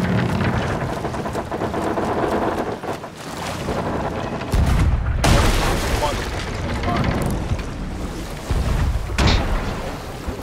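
Heavy booming blasts of ship cannon fire in the video game Sea of Thieves erupt amid a dense, roaring din, with several deep thuds landing in a chaotic stretch.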